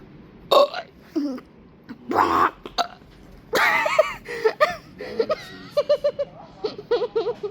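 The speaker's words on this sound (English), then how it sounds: "you can't control my burping anyhow" A series of short, loud burps from a person, coming in several bursts with pauses in between, mixed with throaty sounds and brief laughter, close to the microphone.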